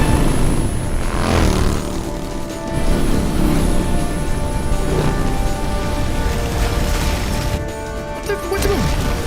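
An aircraft engine drones steadily in the Metal Gear Solid Delta: Snake Eater game, a loud, continuous roar with a faint tonal whine, broken by occasional crashes and brief speech.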